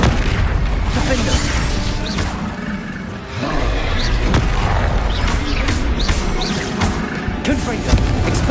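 Confringo spell blasts from Hogwarts Legacy, dense loud booms and crashing bursts in a continuous barrage with roaring effects and a voice calling out over them.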